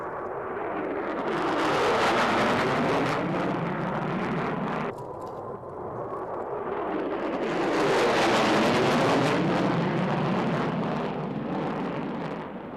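A B-2 Stealth Bomber flies over an RAF Mildenhall air show in 1997, making a loud, sustained jet roar that swells, dips briefly and builds again as the aircraft passes, with no voices.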